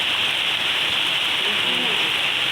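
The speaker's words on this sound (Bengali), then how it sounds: "আর দেখো কেমন বৃষ্টি হচ্ছে" Rain pours down outdoors in a steady, dense, loud hiss that stays even throughout, with no talking.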